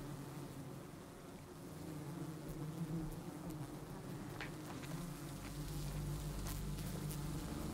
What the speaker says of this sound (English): Bees are calm now, busy forming a new colony